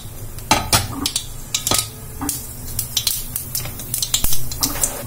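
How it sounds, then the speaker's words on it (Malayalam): Mustard seeds spluttering in hot oil, heard as irregular sharp pops and crackles close by, mixed with clinks of a utensil against the pan. "എണ്ണ ചൂടായിട്ടുണ്ട്, അതിലേക്ക് നമുക്ക് കടുകിട്ട് കൊടുക്കാം. കടുക് പൊട്ടി വരുന്നുണ്ട്"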